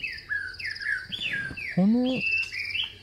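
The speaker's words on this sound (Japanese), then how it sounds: "鳥の声もいいですね。" Birds chirp and trill in a calm, breezy forest inside a horror video game, with several bright repeated calls overlapping and one louder squawking call near the middle, a faint voice briefly heard.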